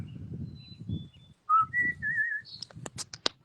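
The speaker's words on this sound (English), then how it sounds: "Listen to the birds and to the sounds of nature here." Clear whistled bird-like notes, a few sustained tones followed by quick chirpy bursts, close and alone over a faint low murmur.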